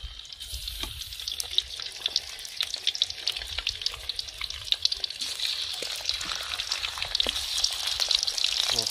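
Gourami fish fries in a hot pan, giving a steady loud sizzle with crackling pops throughout and no talking.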